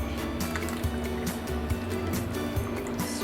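Wet ingredients pour into a well of dry ingredients for red velvet waffle batter, giving a steady, close liquid gurgle and soft squish that runs continuously for a few seconds without speech.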